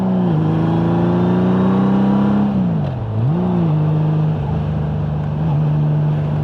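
Honda Goldwing motorcycle cruising on a highway, its steady engine hum dipping and recovering once as the revs shift, with wind noise throughout.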